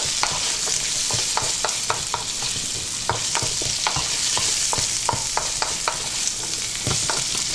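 Sliced pork sausage stir-fries in a wok, a steady sizzle punctuated by repeated sharp scrapes and taps of a utensil tossing the pieces, close and without talk.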